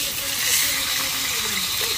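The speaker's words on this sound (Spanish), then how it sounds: "Friendo los frijoles." A steady, loud sizzle and hiss of beans frying in a pan, with a person speaking quietly underneath.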